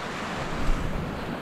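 Calm sea waves wash onto a stony beach after a storm, a steady broadband hiss of surf with one soft swell in the middle, mixed with light wind noise on the microphone.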